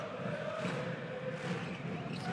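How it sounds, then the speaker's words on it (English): Basketball arena crowd during a Champions League game, an unbroken wash of voices and cheering held at a steady, moderate level, with occasional louder shouts rising from the mass. "Crowd noise incessant in the arena."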